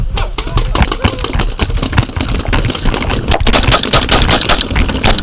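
Dense, continuous gunfire from a long team game of Domination in a village setting, loud and rapid with overlapping bursts and a rumbling engine-like drone underneath.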